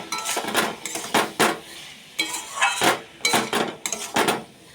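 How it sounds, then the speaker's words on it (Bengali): Metal wok clattering in bursts as potatoes are stirred and fried with salt and turmeric, a series of sharp clanks and scrapes in an irregular rhythm, close and fairly loud, with no talking. "কড়াই ঘটঘট করে"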